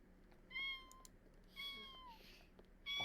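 A cat in The Sims 4 gives several clear, tonal meows in succession, bright game sound effects spaced about a second apart over a quiet background.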